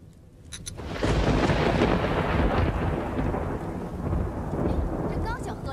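A deep rolling thunderclap breaks after a few faint sharp taps and rumbles on loudly for several seconds as a storm gathers before rain, with a few small rustles at the end and no talk.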